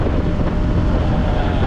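Strong wind buffets the microphone while riding a motorcycle on a cold winter road toward Mohe. A loud, continuous low roar rumbles without a break for the whole stretch.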